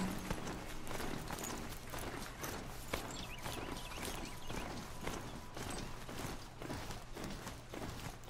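Horse hooves clop steadily in Horizon Zero Dawn, a continuous run of footfalls over game music and ambience for the whole stretch, with no talk.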